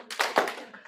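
A lecture-hall audience claps hands together on command, a short burst of a couple of sharp overlapping claps heard close and fairly loud.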